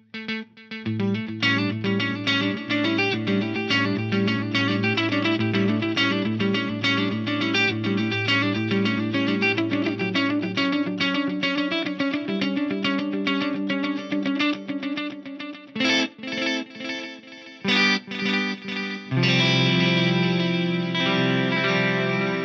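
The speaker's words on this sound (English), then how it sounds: "this gives me that epic quarter note and dotted eighth delay mode at the same time" A BOSS DD-200 delay pedal runs quarter-note and dotted-eighth repeats together on a played guitar line, giving dense, sustained echoing notes that stay loud nearly throughout, with a short choppy break before a fuller chord at the end.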